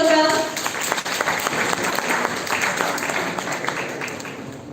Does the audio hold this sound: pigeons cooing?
no